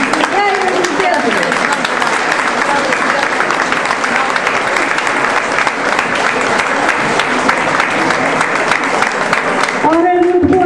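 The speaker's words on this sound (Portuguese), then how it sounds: "Aplausos para a Universidade da Terceira Idade do Ribeiro do Pedro." Loud, sustained applause from an audience welcoming a senior university's singing group, dense clapping throughout with brief voices audible at the start and end.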